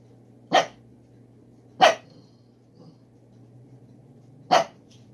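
A pet dog gives three sharp, separate barks indoors, spaced a second or more apart, against a low steady hum.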